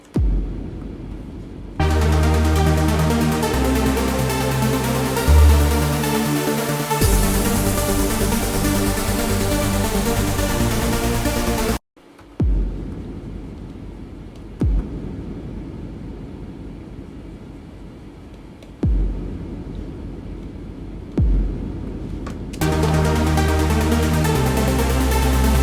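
Heavy-reverb hall kick drum effect: several booming low hits, each followed by a long washing tail, with brief silent gaps between some of them.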